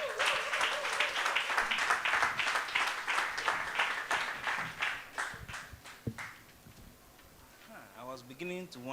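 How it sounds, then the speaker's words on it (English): An audience applauds with dense, steady clapping that thins out and fades, then a voice begins speaking near the end. "with a round of applause, welcome on stage"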